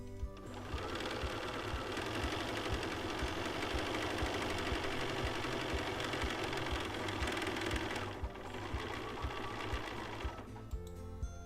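Sewing machine stitching a zigzag seam on a cloth face mask, running steadily and loudly for the whole stretch with a rapid rhythmic needle clatter and a brief dip in speed partway through.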